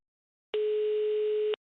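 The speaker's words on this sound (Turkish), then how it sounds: "Evet çalıyor." A single telephone ring tone in a Minecraft drama series, one steady electronic beep lasting about a second, clean and alone against silence.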